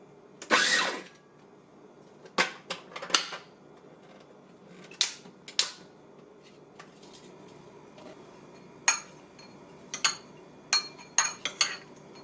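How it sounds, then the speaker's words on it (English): A KitchenAid 7-cup food processor pulses walnuts with its multi-purpose blade, giving a dozen or so short, sharp bursts of whirring and clattering nut pieces separated by quiet gaps, one longer burst first and then a quicker series. "Now I'll chop some walnuts. Using the multi-purpose blade, about a cup. I'll pulse a few times."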